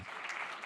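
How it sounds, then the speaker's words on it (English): A brief burst of audience applause at a conference panel, soft and fairly distant, with steady clapping throughout. "Give them a big round of applause."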